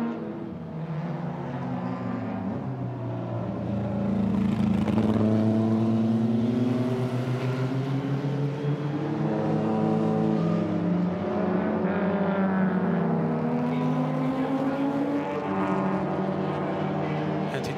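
A race car lapping the Hungaroring circuit in a 2017 race, its engine droning steadily with shifting pitch as it runs through gears and corners, loud and continuous from onboard or nearby, with no talk over it.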